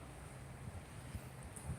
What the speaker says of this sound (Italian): guarda, pure qua il vento.